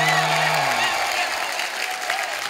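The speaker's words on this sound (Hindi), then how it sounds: "जोरदार तालियां।" A television comedy show studio audience applauds, a continuous dense patter of clapping with crowd noise and voices over the top.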